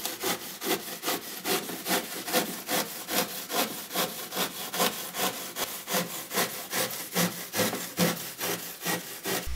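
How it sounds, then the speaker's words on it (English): A hand jigsaw made for handcrafts cuts through high-density polystyrene insulation in quick, regular back-and-forth strokes. The rasping is close and steady, and nobody speaks. "use a jigsaw normally used for handcrafts"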